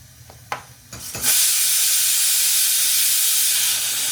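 A gas stove burner is turned up high and hisses loudly and steadily after a few brief clicks and knocks, with the broad rushing noise holding close and constant to the end.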